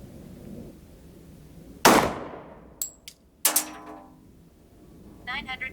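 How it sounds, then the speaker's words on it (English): Glock 27 .40 caliber pistol fired outdoors: one sharp, loud report, then a couple of smaller clicks and a second strong bang, with faint voices later. "now the last one is gonna be the Glock 27"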